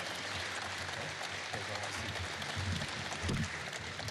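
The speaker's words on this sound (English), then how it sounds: "another round of applause for Ethan Belchetz" Audience applause at a 2024 OHL Priority Selection press conference fills the room as a dense, steady clatter of clapping, moderately loud and sustained throughout.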